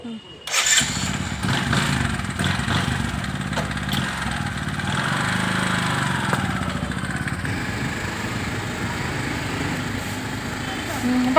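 Motorcycle engine cranking and catching, then running at a steady idle nearby for several seconds during a household festival, with people talking over the engine noise.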